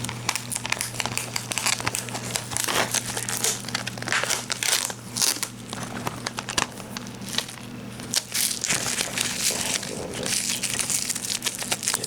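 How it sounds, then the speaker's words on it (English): A sticker is peeled off DVD packaging, making close, soft crinkling and tearing crackles over a steady low hum, with no talking. "I guess before I toss this away mindlessly, I should take this sticker off."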